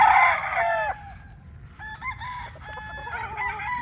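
Local banded Black Gilmore gamefowl stags crow close by, with several overlapping cock-a-doodle-doo calls in quick succession and no talking.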